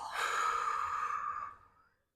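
One long, deep breath out during a yoga hip stretch, close and fairly loud, with a breathy rush that fades away to silence after about a second and a half.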